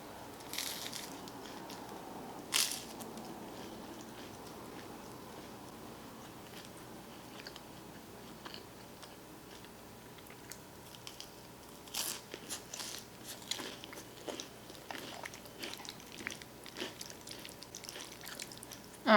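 Crunchy garlic bread is bitten and chewed close up in quiet surroundings, giving faint, irregular crackling crunches with a few louder bites scattered throughout.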